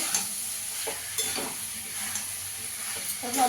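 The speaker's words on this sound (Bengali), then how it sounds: "ভেজে রাখা সব সবজিগুলো দিয়ে দেবো, ভালো করে কষিয়ে নেব" Fried vegetables stirred into spiced oil in a pan for Bengali niramish sabji, with a steady sizzle and intermittent scraping strokes of the spoon, close and alone.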